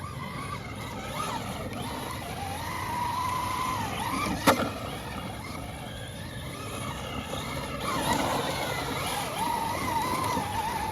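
A Traxxas Mini Maxx RC truck, rebuilt from a BL2, drives outdoors with a steady whining electric motor that rises and falls, a short sharp click near the middle, and faint voices underneath.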